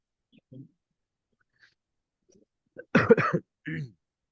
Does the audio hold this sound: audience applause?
no